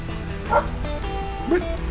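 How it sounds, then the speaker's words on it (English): Two short, high dog barks or yips about a second apart, close by, over a faint background hum. "silly dog chasing birds again."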